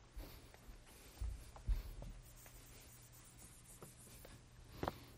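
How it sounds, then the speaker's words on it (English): Chalk scratching across a blackboard during a computer science lecture on the GCD algorithm, a quiet run of short strokes and taps with a couple of louder knocks, faint room noise between. "let me write it again"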